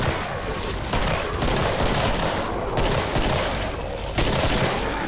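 Pistol gunfire in a zombies video game set in Portal's Aperture Laboratories, loud shots repeating every second or so over a dense, noisy background of game action.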